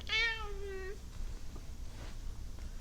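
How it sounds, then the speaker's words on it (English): A 14-year-old adopted cat lets out one clear, close meow with a rising then falling pitch near the start, followed by quiet room tone. "we adopted a 14-year-old cat, and she's very chatty"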